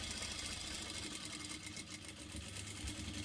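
A domestic sewing machine stitches a hem with a continuous fast, faint whirr and rhythmic mechanical patter that runs throughout without pause.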